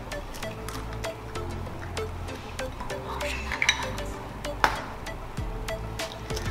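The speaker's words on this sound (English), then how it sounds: "I'm gonna go ahead and get my eggs cracked." Eggs are cracked for an egg casserole, with sharp clicks and taps against a bowl and light clinks of kitchenware over a low background hum, nearby and without talk.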